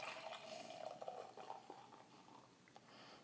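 Treehouse Brewing Haze beer poured into a glass, a quiet continuous liquid splash and fizz lasting a few seconds with small drips near the end.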